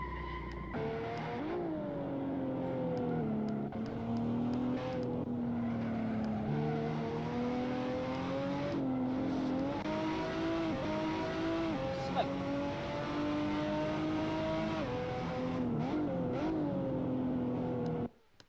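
A Toyota Supra TA90 race car engine at Buttonwillow in the Assetto Corsa racing game drones steadily and loudly, its pitch rising and dipping through gear changes and braking, with someone talking over it at times.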